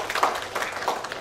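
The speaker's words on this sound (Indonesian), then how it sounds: "Tepuk tangan untuk Dharma Wanita" Brief applause from an audience at a formal inauguration and swearing-in ceremony honours the Dharma Wanita women's association, a short muted patter of scattered clapping heard at a moderate distance.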